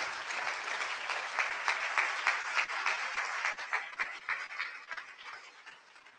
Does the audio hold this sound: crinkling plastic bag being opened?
no